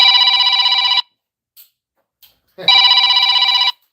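A telephone rings in a workshop during an Oldsmobile 403 engine teardown, with two long bright electronic ring bursts separated by a short gap and faint clatter in between.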